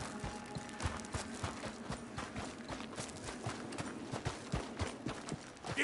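Horse hooves clip-clop steadily in Red Dead Redemption 2, an even walking rhythm of close, distinct hoof strikes with no talk over them.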